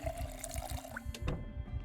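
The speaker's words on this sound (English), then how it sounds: "Fill up the water bottle." Water bottle filling from a tap inside a cabin in the survival game Project Zomboid, a steady liquid running and pouring sound lasting a couple of seconds at moderate level, with no talking over it.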